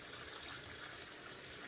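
Water runs into a big bowl of vegetables and fruits in a kitchen, a faint, steady rushing gush like a tap filling, continuous without breaks.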